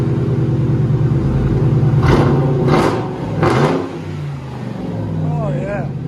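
Mercury Grand Marquis with a 4.6L V8 and true dual exhaust revving up in a few sharp bursts over a steady idle rumble, close and loud, with people talking over it.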